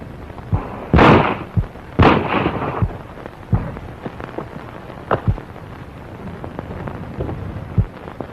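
Gunfire in the 1932 Bob Steele western Texas Buddies: several sharp, loud bangs go off at irregular intervals, two close together, then a lone final shot, with scuffling background noise between them.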